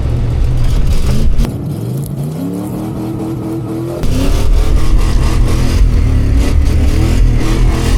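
An old Ford truck engine revs hard while driving through snow, rising and falling pitch with a throttle lift around mid-clip before the engine surges loud again, close and continuous with no talk.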